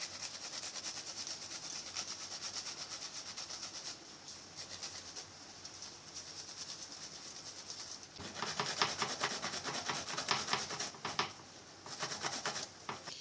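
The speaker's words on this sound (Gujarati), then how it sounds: "આ છીણીની મદદથી આપણે આને છીણી લઈશું આ રીતે।" Fresh green sweet corn cobs rubbed across a hand grater make a continuous close, rapid rasping scrape. The strokes grow louder and more rhythmic partway through.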